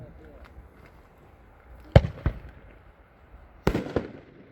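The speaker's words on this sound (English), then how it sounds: "Next up is another one of our 9-shot cakes." A Top Guns 9-shot firework cake firing, sharp separate bangs in two bursts of two or three shots each, distant and echoing against a quiet outdoor background.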